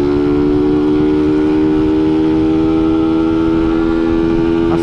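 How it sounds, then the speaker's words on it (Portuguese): A Honda Titan KS 125 motorcycle fitted with an NGK iridium spark plug revs hard in third gear, a loud, steady engine drone with a rising pitch held throughout, recorded up close. "Acelerando tudo em terceira, rapa."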